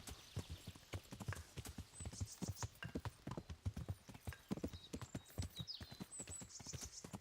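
Rapid, rhythmic hoofbeats of a horse in the video game Kingdom Come: Deliverance clatter at a steady gallop, fairly crisp and close, with faint background ambience and no speech.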